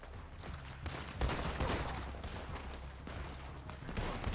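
Shotgun and other gunfire in Red Dead Redemption 2 crackle in a rapid, muffled volley of overlapping shots, fairly faint and distant-sounding, with no talk over it.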